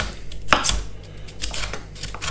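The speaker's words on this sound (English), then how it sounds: "we're going to just roughly chop them" A knife roughly chops vegetables for a cheesy broccoli and cauliflower bake, a few close, sharp thuds on a board at an uneven pace with no talking.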